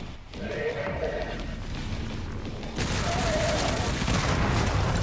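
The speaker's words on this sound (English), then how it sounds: "Okay, there's also a machine gun guy." Heavy automatic gunfire and booming blasts in the Resident Evil 9 video game, a steady roar of shots that grows louder and denser partway through, with a voice speaking underneath.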